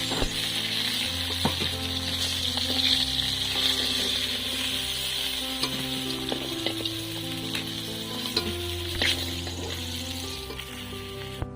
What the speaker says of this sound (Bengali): বন্ধুরা আমার মাছ ভাজা হয়ে গেছে এবার এই মাছটাকে তুলে নেব